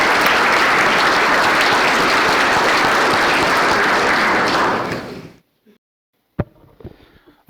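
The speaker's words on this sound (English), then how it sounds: "they deserve a heck of a applause for what they've done this year." An audience at an annual membership meeting gives loud, sustained applause for the board that fades out after about five seconds, followed by near silence and a few scattered knocks and handling noises.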